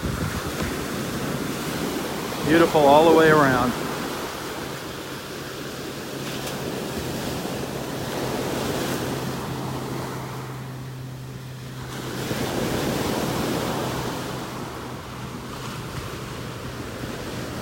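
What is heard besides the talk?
ocean waves on a beach in North Naples, Florida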